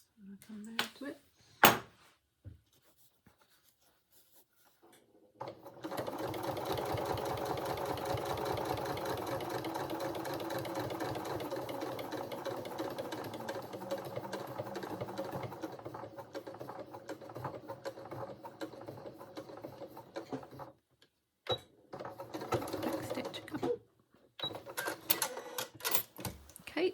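A sewing machine stitches around the edge of an Eva dress in one steady, close run of rapid needle strokes lasting about fifteen seconds, framed by quieter handling clicks before and a few short, sharp bursts of fabric noise after.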